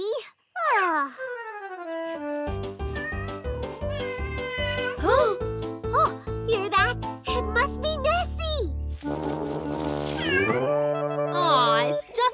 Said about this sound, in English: Cute kitty! Scottish wildcat!